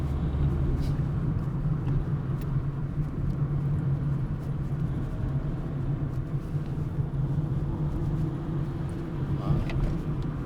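A car pulls away after shifting into third gear, its engine giving a steady low droning rumble with faint road noise from inside the cabin, while a voice talks over it.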